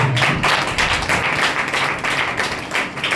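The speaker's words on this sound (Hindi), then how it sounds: "ताली बजाएंगे।" A church congregation claps during a Sunday sermon, many hands beating in a loud, fairly steady rhythm close by for the whole stretch, with no voices over it.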